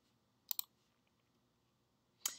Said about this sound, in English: and click Open Report.